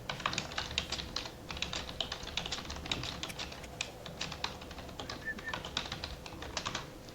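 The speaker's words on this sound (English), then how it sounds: "That's some anger typing right there." Fast typing on a computer keyboard, a rapid, continuous stream of sharp clicks and key taps close to the microphone, with no voices.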